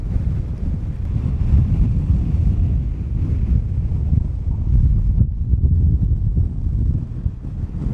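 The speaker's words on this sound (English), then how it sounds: "It is incredibly windy." Strong wind gusts buffet the microphone at a high mountain pass above a road with switchbacks, making a loud, steady roar that lasts the whole stretch with no one talking.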